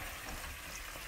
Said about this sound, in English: Now we'll let that sear 3 or 4 minutes on each side.